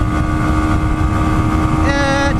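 Yamaha YZF-R125 motorcycle engine held at high revs near top speed in sixth gear, a loud steady drone buffeted by heavy wind noise, with a brief rise in whine toward the end.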